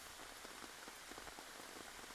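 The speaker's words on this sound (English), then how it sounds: "But the rain is coming down heavy. Really, really heavy." Heavy rain pours steadily onto a surface in an open field, a dense, close, unbroken hiss with scattered drop patter and no voices.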